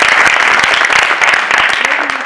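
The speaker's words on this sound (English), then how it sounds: "can we just get another round of applause?" Loud, close applause from an audience at a talk on the Israeli-Palestinian conflict, with sharp individual claps standing out in a steady rhythm and a voice faintly present near the end.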